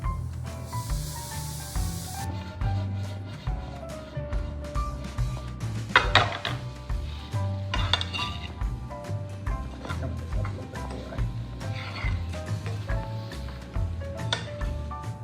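Green chilies and roasted tomatoes hit a hot pan for a sweet potato and black bean casserole, giving a steady sizzle and hiss with occasional clinks of a utensil against the pan.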